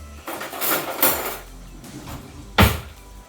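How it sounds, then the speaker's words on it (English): A fork fluffs cooked rice in a pot or dish, giving a few light metallic scrapes and clinks in separate bursts, near and fairly clear. "Now, when you fluff rice, use a fork."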